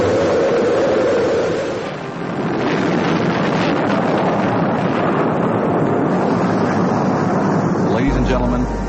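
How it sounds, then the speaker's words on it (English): A broad, roaring rumble of rocket engines fills the clip continuously, loud and steady with a dip near two seconds, wind-like noise over it. "We have main engine start."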